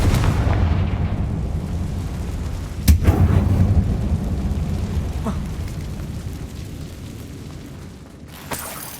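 A Confringo blasting spell detonates in the Hogwarts Legacy video game, a loud booming explosion over a heavy rumbling bed, followed by fainter secondary bursts and a sharp pop near the end.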